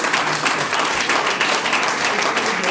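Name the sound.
audience applause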